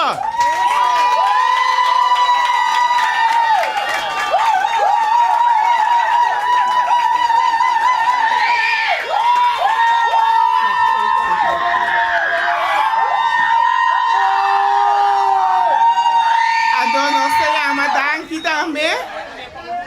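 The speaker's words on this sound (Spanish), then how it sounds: "Aplauso!" Audience in a restaurant cheering and clapping, loud sustained whoops and high-pitched shouting with crowd chatter throughout.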